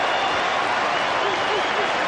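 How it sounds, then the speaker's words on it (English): A large cricket stadium crowd at Eden Park during a 1992 World Cup semi-final, a continuous roaring wash of cheering and clapping, dense and sustained, with a commentator's voice faintly mixed in. "Listen to the crowd."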